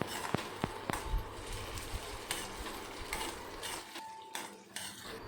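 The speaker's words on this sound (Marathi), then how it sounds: "टॅमॅटो आणि कांदा चांगला भाजून घेऊया" Finely chopped tomato and onion sauté in oil, a soft continuous sizzle punctuated by clinks and scrapes of a spoon stirring against the pan.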